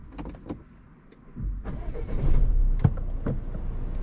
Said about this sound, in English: we'll start the engine and then get going